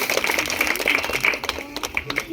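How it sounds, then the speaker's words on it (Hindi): Children clap together at a village magic show, a busy spread of small-handed claps that thins toward the end, with some voices and crowd chatter mixed in. "ताली मारेंगे बच्चे लोग"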